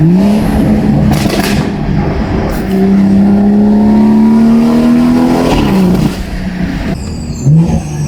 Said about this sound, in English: A lot of overrun, which is real nice. A lot of cracks.